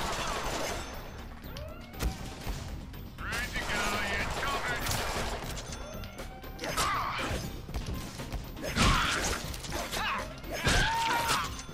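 Gunfire from a gun set to perforate in the Deadpool video game: sharp, repeated shots in bursts across the whole stretch, over busy game effects and some talk.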